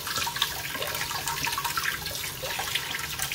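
Water runs steadily from a kitchen tap over an avocado seed being rinsed, a continuous close splashing stream at moderate volume with no talking.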